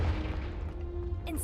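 Confringo, a fiery blasting spell in the Hogwarts Legacy video game, bursts in a short, heavy boom with a crackling rush, followed by a brief bright burst at the end.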